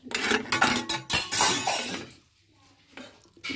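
Raw rice with ghee and sugar stirred in a metal pot: busy scraping and clinking of a spoon against the pot for about two seconds, then near quiet with a few faint taps.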